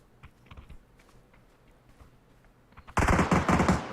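Quiet, faint background for a few seconds, then a sudden loud burst of rapid automatic gunfire in PUBG fills the final second.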